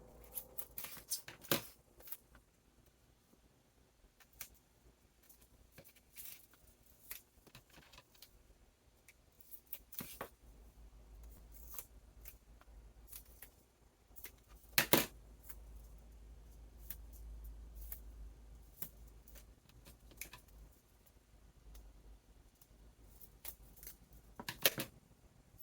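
Scissors cut paper for handmade St. Patrick's Day cards, faint scattered snips and crisp paper rustles spread over a quiet stretch, with a few louder close cuts.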